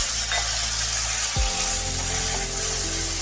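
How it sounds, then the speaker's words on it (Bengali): Chopped tomatoes hit a hot pan over a low gas flame, a sudden wet thump followed by a steady, close sizzle and hiss that carries on alone. "গ্যাসের ফ্লেমকে একেবারে সিম করে আমি দিয়ে দিচ্ছি কেটে রাখা টমেটো।"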